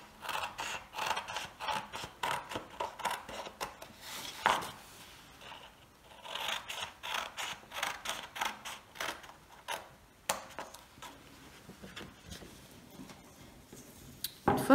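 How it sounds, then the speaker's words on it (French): A pair of scissors cuts out a paper square for folding, giving a dense run of crisp snipping and rustling strokes at close range, with brief pauses between bursts. "je prends ma paire de ciseaux et je vais découper ce carré"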